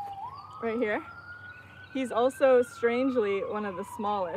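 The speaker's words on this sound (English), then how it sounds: "Sorry about the sirens." An emergency vehicle siren wails steadily in the background outdoors in a garden in Pensacola, rising then holding a long tone, while someone talks over it up close.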